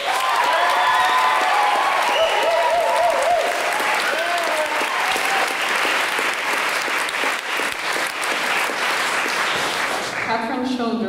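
Loud, sustained audience applause with some cheering for a barbershop choir director at a choral concert, with voices calling out and whooping over the clapping before it thins out near the end.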